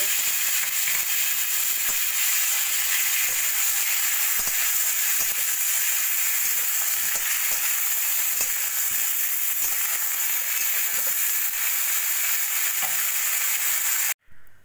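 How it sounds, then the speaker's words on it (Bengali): Cauliflower florets frying in hot oil in a kadai, a steady loud sizzle with occasional stirring clicks throughout, cutting off abruptly at the end. "একইভাবে আমি বাকি ফুলকপিগুলো ভেজে নেব।"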